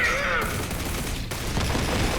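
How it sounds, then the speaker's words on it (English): A burst of rapid electronic gunfire, anti-phase electron bullets shot from a gun in Digimon Story Time Stranger, giving a loud crackling volley over about two seconds with a brief break near the middle. "Now taste my newly developed anti-phase electron bullets."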